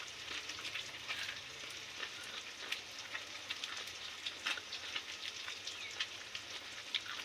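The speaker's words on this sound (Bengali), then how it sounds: "রান্না বসিয়েছি যেহেতু রান্নার আওয়াজ হচ্ছে।" Food frying in a pan gives a soft, steady sizzle with light crackling pops, fairly faint and even throughout, no voices.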